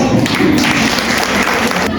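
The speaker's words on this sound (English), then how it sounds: "Let's welcome him with a big round of applause." Audience applauding to welcome the guest of honor at a school annual function and prize distribution, a steady dense clapping of a large crowd filling the whole stretch with no break.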